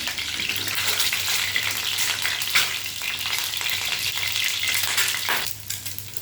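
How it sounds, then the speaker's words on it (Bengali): Eggs browning in a hot frying pan give a steady, close sizzle with continuous hiss and crackle and occasional stirring scrapes, with no talking. "ডিমগুলো একটু লালচে করে ভেজে নেবো।"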